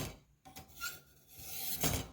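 Spyderco Police EDC knife blade drawn across a Warthog knife sharpener, a few quiet, close rasping strokes with gaps between them, no voices.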